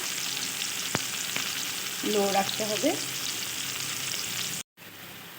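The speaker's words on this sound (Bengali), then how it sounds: "দেখো কত সুন্দরভাবে কাঁচকলাগুলো ভাজা হয়ে গেছে" Raw green banana pieces frying in a pan on a gas flame, a steady sizzle with a brief burst of stirring scrapes midway, while a voice speaks briefly.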